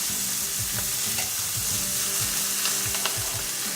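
Blanched collard greens and tomatoes sizzle steadily in a hot pan, with repeated scraping stirs and clinks of a utensil cutting through the constant frying hiss.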